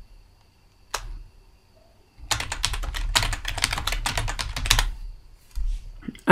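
A computer keyboard clicks as a form title is typed: one lone keystroke, a pause, then a rapid close-up flurry of quick taps that stops abruptly.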